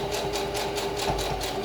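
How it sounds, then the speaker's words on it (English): A sewing machine runs steadily as it stitches the hem of a homemade fabric mask, with a fast, even mechanical patter close by and no voices. "Now I'm going to reverse and back stitch this because that's going to be a part that needs to be reinforced."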